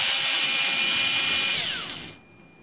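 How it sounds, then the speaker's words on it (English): A small powered screwdriver whirs steadily while backing out one of two tiny screws holding the Wi-Fi chip inside an HP Pavilion dv7-6100 series laptop, then spins down and stops near the end. "It has two screws in it, so you're gonna have to just unscrew them."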